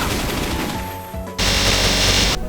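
Loud rapid gunfire from the Fatal Phantom skills in Elsword, a sustained burst that drops off, then a harsher, brighter volley for about a second before cutting out.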